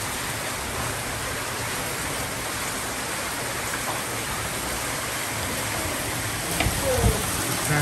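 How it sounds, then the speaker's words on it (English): Dense, continuous hiss of heavy rain pouring down, steady and loud throughout, with a brief louder disturbance near the end. "So it's raining so hard it's flooding."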